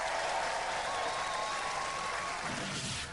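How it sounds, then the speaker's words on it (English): Studio audience applauding a Robot Wars team called Suicidal Tendencies, a dense, even roar of clapping that holds steady throughout and eases slightly near the end. "Let's have a round of applause for Suicidal Tendencies."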